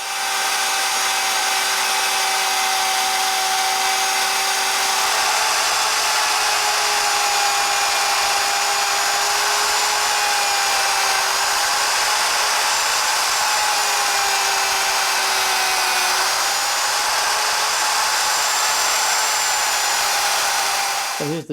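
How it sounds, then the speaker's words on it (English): A router with a bearing bit trims excess laminate off the edge of plywood, a loud, continuous high-pitched whine that holds steady with slight pitch wavers for over twenty seconds. "So this is the router bit I'm going to use. It has the bearing on there that rides along the edge of the plywood, and that'll trim off the excess laminate."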